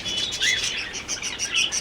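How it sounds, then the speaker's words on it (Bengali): A crowd of multicoloured cockatiels at a roadside bird market chirps busily, with bursts of wing flapping mixed into the dense, high-pitched chatter at close range. "এগুলো সব ককটেল, নানা রকম কালারের রয়েছে।"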